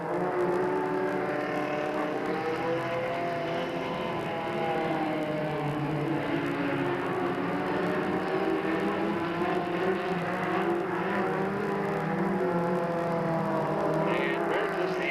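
Several race cars roar around the oval at Delta Speedway in 1997, a dense, steady engine drone with overlapping layers and no gaps, loud and sustained throughout.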